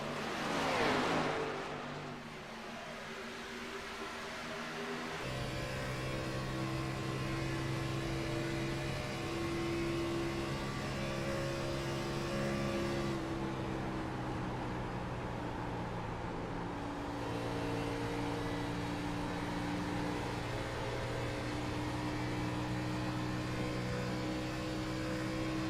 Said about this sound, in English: Just these V8s are roaring right now